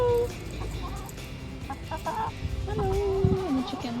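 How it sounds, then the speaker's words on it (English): Chickens cluck and squawk nearby in short bursts, one rising call standing out, over a steady outdoor background in an Arizona summer. "Hello, and the chickens."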